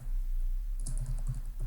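Typing on a computer keyboard, quick clustered key clicks close to the mic, starting partway through, against a steady low background hum.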